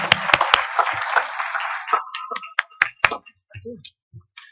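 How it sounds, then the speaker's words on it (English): Audience applause at a cannabis-industry technology event, a burst of dense clapping filling the first two seconds and fading into scattered claps and taps, with a voice talking in the room afterward. "could you have a full round of applause for the pitchers today?"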